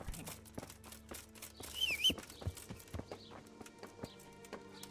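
Horse hooves walking at a steady clip-clop pace in the medieval game Kingdom Come: Deliverance, a horse carrying armor, with regular moderately loud thuds and a brief bird-like chirp midway.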